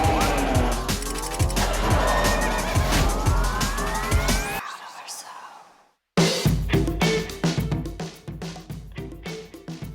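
A Mercedes-Benz C63 AMG Black Series with a 6.2-liter V8 roars loudly, its engine note climbing steadily through the gears, cuts out abruptly, then returns with sharp revs and throttle blips.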